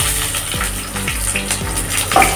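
Nigella seeds and slit green chillies frying in hot mustard oil, a steady loud sizzle with spitting crackles and a few brief pops throughout.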